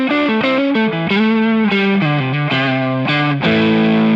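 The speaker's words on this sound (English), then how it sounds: "one of my all-time favorite sounds on a single coil guitar of any kind is the neck pickup on a Strat" A Fender Stratocaster played through its single-coil neck pickup rings out in a melodic run of sustained notes with a slightly driven, warm, bell-like tone, loud and alone with no voices.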